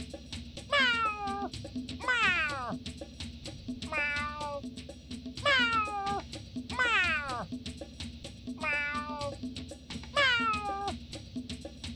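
Gary the snail from a SpongeBob video game meows repeatedly, about six clear rising-and-falling cat-like meows spaced evenly over a quiet steady background hum, with no talking.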